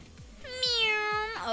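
A cat's meow in a Roblox game, one clear rising-then-falling call lasting about a second, heard close and loud over soft game background sounds.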